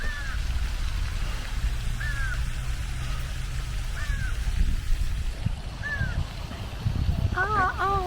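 Crow caws ring out at intervals, a single call about every two seconds, then a quick burst of several caws, over a steady low rumble of water and background noise.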